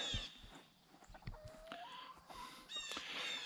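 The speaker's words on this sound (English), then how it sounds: "I got chickens everywhere." Chickens cluck and call in short bursts, one longer rising squawk in the middle, with scattered thumps and rustling nearby.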